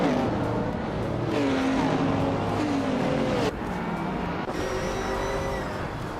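Race cars launch off the line together at Botniaring, among them a vintage 1973 Porsche 917/30 Spyder, a dense, loud roar of engines with rising revs and shifting pitch as the pack accelerates.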